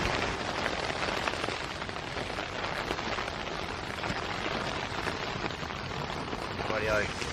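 Steady rain drumming on a Hilleberg Soulo tent in cold woods, a dense close patter that stays even throughout.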